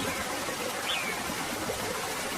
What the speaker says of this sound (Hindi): जैसे जैसे बारिश तेज होती गई, बारिश का पानी पंछियों के घोंसले तक पहुंचने लगा।